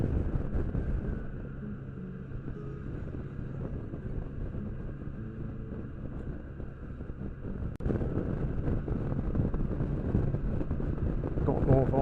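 Strong north wind buffets the microphone while riding a motorcycle on an open road, a steady loud roar of rushing air and engine rumble throughout, briefly dipping then surging louder again.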